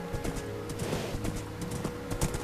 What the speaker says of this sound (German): Ewig auf meinem Pferd durch die Prärie preschen.